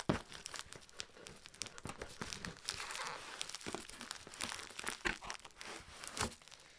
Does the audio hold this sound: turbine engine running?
no